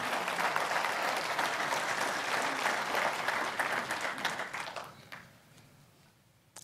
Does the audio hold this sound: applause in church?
yes